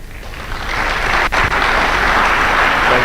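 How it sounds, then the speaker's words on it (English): An audience at an award ceremony applauds steadily, a dense, even wash of clapping that builds slightly and continues throughout, with no voices over it. "Please keep clapping until he takes a seat."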